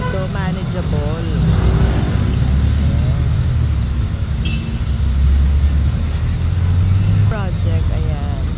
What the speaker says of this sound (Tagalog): ang traffic dito manageable.